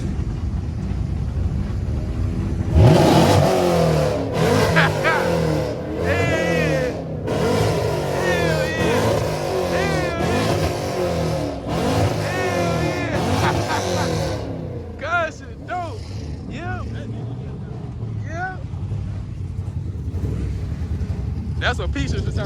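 A Chevrolet Camaro SS revs its engine at a busy car meet, a loud roaring run of blips with rising and falling pitch, while people nearby shout and talk over it throughout.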